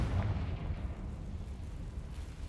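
The Confringo fire spell blasts in Hogwarts Legacy, a deep rumbling boom that starts strong and lingers as a low, rolling roar.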